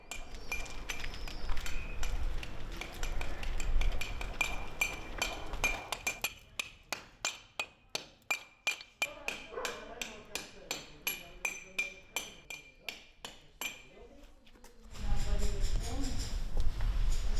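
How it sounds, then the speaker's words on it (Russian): Small hammers tapping on house renovation work drift in from narrow streets of an Italian town, a run of sharp, evenly spaced knocks with street ambience and voices before and after. "С разных улочек слышен стук молоточков."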